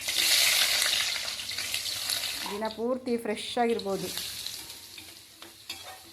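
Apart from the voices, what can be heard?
tempering spices sizzling in hot oil (oggarane)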